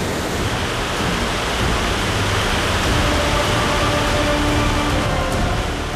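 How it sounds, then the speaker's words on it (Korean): Angel Falls pours down in a continuous, loud roar of falling water, a dense broadband wash that stays steady throughout with no voices. "낙수 소리가 정말 웅장하게 들립니다."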